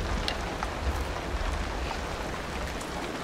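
Steady rain falls outdoors as a soft, even wash with a few scattered drop hits, continuous and moderately quiet throughout with no voices.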